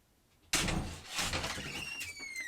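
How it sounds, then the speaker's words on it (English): A house door bursts open with a sudden sharp bang, followed by continued rattling and scuffing noise and a few thin whistling tones near the end. "you do not gotta bust through my door like that."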